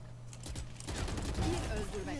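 Sprayed automatic gunfire from a Valorant deathmatch, a dense run of rapid shots that swells louder midway and stays busy to the end, with game sounds mixed in.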